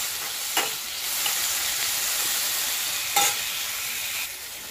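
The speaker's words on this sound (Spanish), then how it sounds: "Y ahora le vamos a echar el chile y el tomate. Y vamos a dejar que se dore también ahí." Onion, chili and tomato frying in a pan, a steady close sizzle with brief stirring clatters at a couple of moments.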